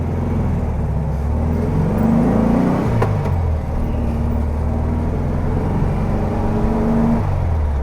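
A 1964 VW Beetle on a test drive after an engine install, its air-cooled engine droning loudly and continuously from inside the car, pitch rising and falling as it revs through gears under steady road rumble.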